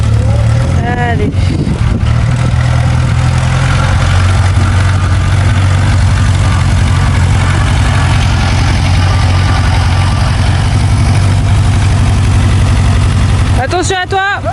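A tractor engine idles and runs steadily throughout as Rémi test-drives it hitched to a restored hay rake, a loud low rumble with brief voices near the start and end.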